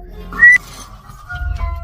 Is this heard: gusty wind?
no